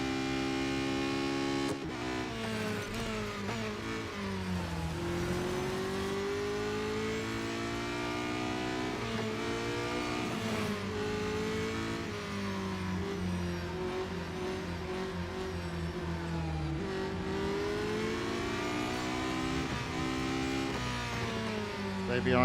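Racing car engines in the video game Real Racing 3 drone steadily at high revs with rising and falling pitch through shifts, loud and continuous for the whole stretch, with a voice talking over it.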